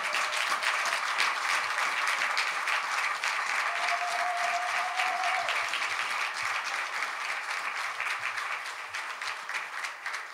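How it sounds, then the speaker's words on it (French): Dense, sustained applause from a church congregation at a dedication service, loud and even throughout before easing slightly toward the end. "Applause strongly for the glory of God."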